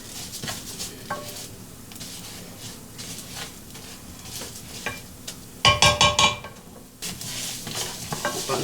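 Fried rice with breakfast sausage being stirred in a pan, giving soft scraping and rustling with a faint sizzle, a sharper burst of clattering scrapes midway, then steady stirring again.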